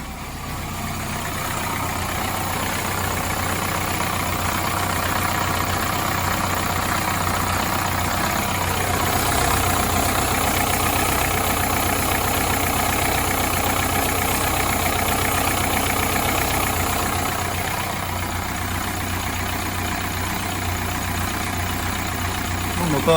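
Subaru/Opel 1.7 diesel engine idling roughly with unstable revs, a continuous steady growl with a slight shaking unevenness, close and fairly loud throughout.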